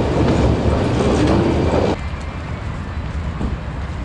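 Metro train carriage in Kazan running along the track, a loud steady rumble with faint clicking that drops to a quieter ride partway through, with no voices.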